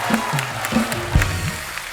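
Studio audience on a comedy talk show gives a short burst of applause, a steady broadband clatter lasting about two seconds. Low voices and laughter murmur underneath it.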